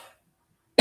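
A single sharp cough from a person with a cold, loud and close, bursting out abruptly at the very end after near silence.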